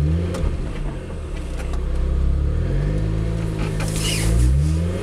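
A Lotus Exige sports car driving on snow at around 45 km/h, its engine droning and rising in pitch as it accelerates, loud and close throughout with no talk.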